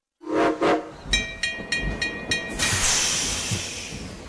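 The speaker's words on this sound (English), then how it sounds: "All aboard the choo-choo train." Whistle blasts in a short repeated pattern, like a choo-choo train, loud and close, followed by a hissing, steam-like wash of noise; no talking.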